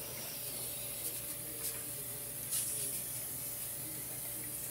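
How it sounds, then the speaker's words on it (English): Cooking spray hisses in a few short bursts over slices of French bread laid out for the oven, close and fairly quiet against a steady background hum. "cooking spray right over the top."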